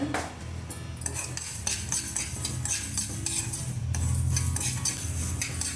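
A spoon scrapes and clinks steadily against a pan as two spoonfuls of fenugreek seeds are stirred and dry-roasted for a brinjal pickle, with a faint sizzle beneath and no talking.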